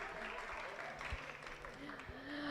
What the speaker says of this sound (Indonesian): boleh tepuk tangannya dong